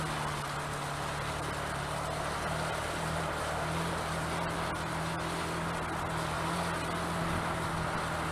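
Motorbike engine pulling slowly in first gear along a byway, a steady close drone with a constant low hum under broad wind rush, unbroken throughout.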